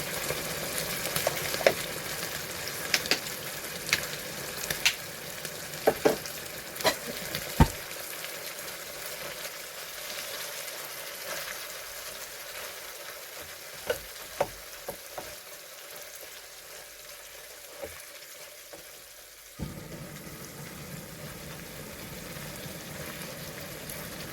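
Spicy catfish stir-fries with holy basil leaves in a hot pan, a steady close sizzle broken by scattered clacks of stirring, the frying settling quieter partway through before swelling again near the end.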